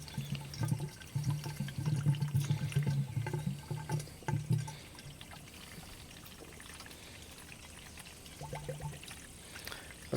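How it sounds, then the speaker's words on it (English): Water poured into the cooling system of an old, long-abandoned Mercedes 300CD, a close trickling and splashing that runs steadily for about five seconds, stops, then returns briefly near the end. "I should probably do water first in case there's a massive coolant leak"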